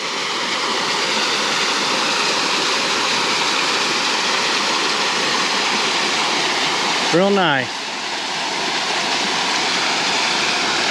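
A small waterfall spills into a pool along the Rhododendron Trail at Lake Russell, giving a loud, steady rushing roar throughout, with a brief spoken remark partway through.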